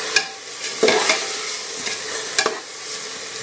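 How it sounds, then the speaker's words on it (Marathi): A spoon scrapes and stirs through rice, lentils and spices in a pan for dal khichdi, a few distinct scraping strokes over a soft, steady sizzle. "आता हे सगळं एकत्र छान परतून घेऊया।"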